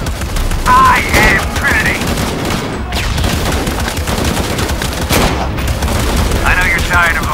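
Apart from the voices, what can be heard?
gunfire in the video game Shadow of the Tomb Raider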